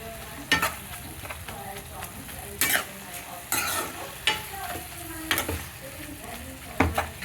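Garlic and leaves sizzle and sauté in a pan, with a steady frying hiss broken by repeated scraping stirs of a spoon against the pan, close and moderately loud.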